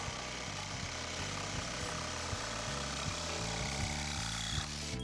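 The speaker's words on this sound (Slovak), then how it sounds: "Tak na to tu máme priamočiaru pílu, s ktorou dokážeme odrezať plás, hliník, plexisklo, kov" A jigsaw cuts through sheet metal in a workshop, a steady, dense buzzing rasp from a rapid reciprocating blade that runs loud and continuous for the whole stretch, with no voices.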